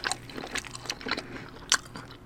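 Close, crisp bites and wet chewing of a steak omelet at Denny's, coming in several quick bursts with short gaps between them.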